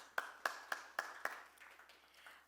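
A press-conference audience at the launch of the crime fiction show Jurm Aur Jazbaat claps in five crisp, evenly spaced beats. Fainter, scattered claps follow as the sound tails off in a quiet room.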